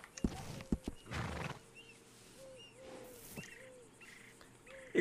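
Horses in the Red Dead video game whinny and neigh with a few sharp hoof clops, set among scattered short sounds, while people talk over them.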